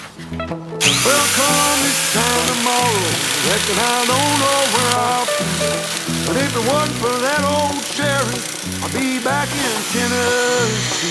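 A Makita-made Pro Craft electric nibbler chews through two stacked 0.8 mm metal sheets, producing a loud, continuous motor whine whose pitch wavers and drops under load throughout.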